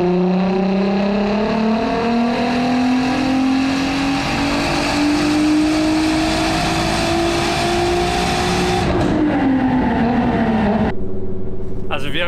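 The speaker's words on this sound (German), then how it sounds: "Wir schmeißen die Karre an." A VW Golf 4 R32 with a turbo engine on a tuning setup runs loudly up close, its rising engine note climbing steadily as it revs, then dropping back before a sharp change near the end.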